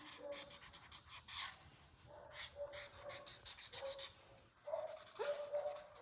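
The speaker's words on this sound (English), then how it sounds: "please don't mind the dogs barking outside" Several dogs bark outdoors at a distance, a series of short muffled yelps recurring every second or so with a few louder bursts near the end, over a scratchy rubbing of pencil or marker on paper close by.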